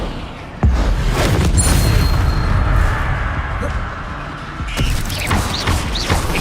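An Incendio fire spell cast in Hogwarts Legacy on PS5, a sudden loud burst followed by a roaring, crackling whoosh that fades, with another blast a few seconds later.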